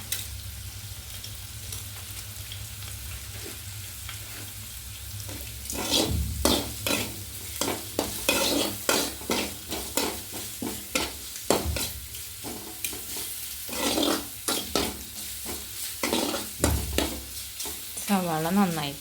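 Onions sizzle steadily in a frying pan for a Kerala egg curry, with repeated scraping strokes of a spoon stirring through them growing louder midway and continuing in irregular bursts to the end.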